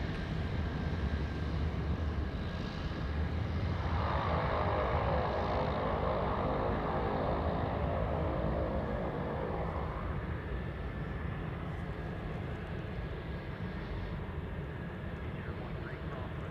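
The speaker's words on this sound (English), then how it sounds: "Coming in from Shanghai, it's Air China Cargo, flight 1015. A 747-400." An Air China Cargo Boeing 747-400 from Shanghai lands at Anchorage airport, a sustained distant engine roar that swells into a louder rushing surge midway before settling back to a steady drone.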